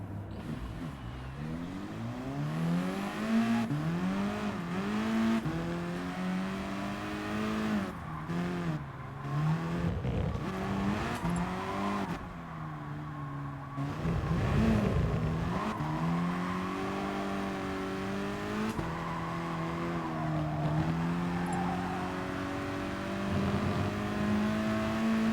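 Race car engine in Gran Turismo Sport revving and shifting through gears during a warm-up lap, loud and continuous, with pitch sweeping up and down under braking and acceleration and brief tire squeal.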